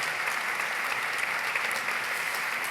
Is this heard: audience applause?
yes